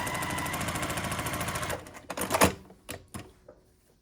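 Sewing machine piecing quilt block units for a scrappy sampler quilt, a fast rhythmic stitching run that stops partway, followed by a few sharp clicks and handling knocks.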